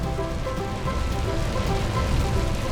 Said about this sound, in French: Dommage, il pleut.